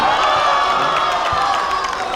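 Spectators cheer loudly at a school teachers-versus-students basketball game in a gym, a brief, sustained burst of massed shouting and whooping that holds steady throughout.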